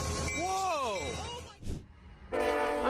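A train passes a road crossing, its horn sounding a sliding, multi-tone blast up close before the rumble and clatter of the rail cars take over, ending in a burst of loud noise.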